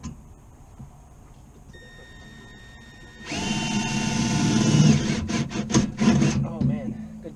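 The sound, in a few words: drilling a hole with a new drill bit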